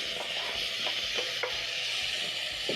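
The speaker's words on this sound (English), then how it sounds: "Cook the seasoning cubes together with the onions for around 10 to 20 seconds" Onions and seasoning cubes fry in a pan with a continuous close hiss of sizzling oil, broken by a few soft, scattered stirring scrapes.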